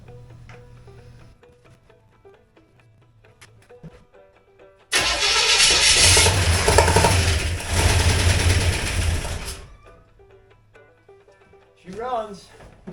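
A 283 engine with a 2-barrel Rochester carburetor cranks and catches abruptly, roaring loud and close for several seconds before settling into a quieter steady idle; faint talk comes before and after.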